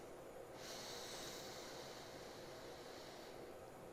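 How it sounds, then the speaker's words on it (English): A long, slow inhale through the left nostril, with the right one sealed during yoga breathing, makes a soft, airy rush that starts after half a second and lasts about three seconds, close and quiet. "and then breathe in through the left."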